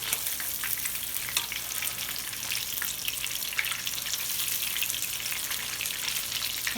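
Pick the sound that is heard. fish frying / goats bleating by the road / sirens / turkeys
fish frying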